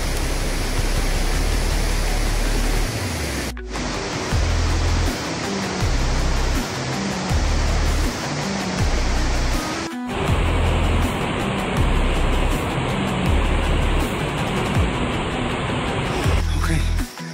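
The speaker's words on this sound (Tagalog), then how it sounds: "Casaroro Falls is 100 feet or 30 meters high in Valencia" Casaroro Falls, a 30-meter waterfall in Valencia, Negros Oriental, roaring as a loud, dense, continuous rush of falling water, close by, with abrupt cuts between takes.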